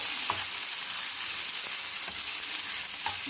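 Tomatoes fry and are stirred into an egg gravy in a hot pan, giving a continuous loud sizzle with faint scraping stir sounds throughout.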